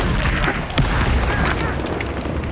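Incendio fire spell cast in the Hogwarts Legacy video game, a loud dense burst of roaring, crackling fire and booming impact lasting a couple of seconds, with faint voices underneath.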